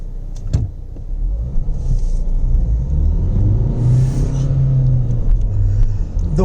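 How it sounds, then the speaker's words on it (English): A 2019 Renault Duster facelift with a turbocharged 110 bhp diesel engine accelerates, giving a steady, loud low rumble that builds and holds through the clip, close to the mic and without talk. "turbocharged diesel motor that produces about 110 bhp of power and 245 Newton meters of torque"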